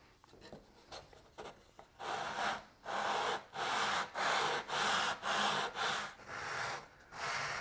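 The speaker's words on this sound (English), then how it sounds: "I'm going to do it on 320 and 400 grit sandpaper, simply taped to a flat surface." Ukulele frets are leveled on 320 grit sandpaper taped to a flat surface, giving a rhythmic series of close, raspy rubbing strokes, about ten back-and-forth passes at a steady pace.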